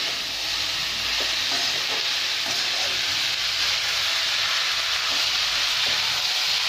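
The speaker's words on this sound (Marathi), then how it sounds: "आता आपण कांदा पण असंच सोनेरी रंगावर भाजून घ्यायचा आहे." Onions frying in a pan toward golden for a kala masala paste, a loud, continuous sizzle with occasional soft scrapes of stirring.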